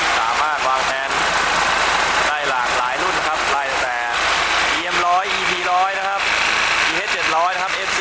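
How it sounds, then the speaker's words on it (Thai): Hino P11C turbo diesel truck engine, 320 hp with an in-line pump, idles with a steady low rumble while someone talks over it throughout. "เดี๋ยวมาสตาร์ทให้ชมกันนะครับกับตัวจบของค่ายฮีโน่นะครับ"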